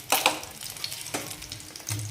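Food fries in a pan with a soft, close sizzle, broken by a few quick scrapes and taps of stirring, and no voices.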